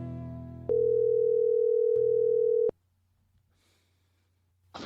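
A telephone tone sounds steadily for about two seconds while a call is being placed, a loud, even electronic note that cuts off abruptly into near silence.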